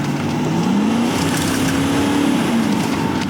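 A Mercedes-Benz GL-Class engine revs hard under acceleration, a loud continuous roar with a rising, wavering tone that swells and settles over a few seconds, with no talking.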